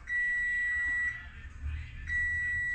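A kitchen-style timer sounds a steady, high-pitched electronic beep that holds for about a second, dips briefly, then resumes, faint against a quiet room.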